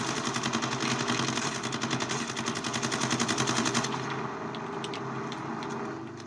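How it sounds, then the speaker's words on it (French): Rapid, dense machine gun fire in Call of Duty: Modern Warfare 2, a loud continuous burst of rattling shots over battle noise that cuts off partway, leaving a lower rumble with scattered distant pops. "Mitrailleuse, à droite. Neutralisez cette mitrailleuse."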